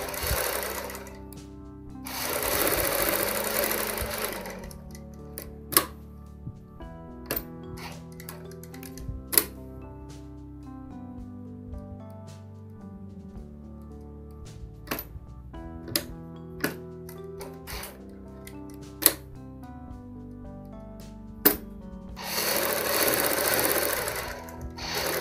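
A sewing machine stitches a ladies' coat collar in two loud bursts of rapid running at the start and end, with sparse clicks and mechanical taps from adjusting the fabric between them.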